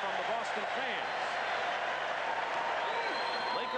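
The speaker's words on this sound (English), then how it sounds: "Sort of a derisive cheer from the Boston fans." Boston Celtics fans at a 1985 NBA Finals game against the Lakers let out a broad, rolling arena cheer, heard as steady crowd noise beneath a commentator's talk, with squeaks and bounces from the court.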